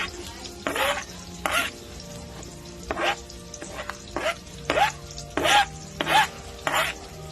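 Garlic frying in a pan after onions, a bright continuous sizzle broken by repeated scraping stirs, about nine close strokes in a loose rhythm.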